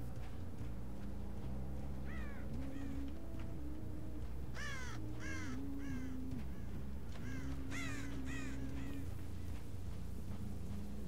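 Crow cawing outdoors, a series of harsh repeated caws in short bursts of two to four calls, moderately distant over a steady background with a low tonal hum.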